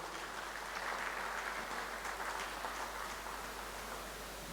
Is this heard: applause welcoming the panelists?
yes